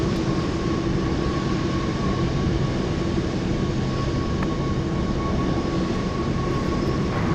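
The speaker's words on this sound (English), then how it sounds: "Flying Eye Hospital taking off in a few minutes" The tri-jet Flying Eye Hospital aircraft roars steadily during takeoff at Anchorage airport, a broad, continuous jet rumble at moderate distance with no voices.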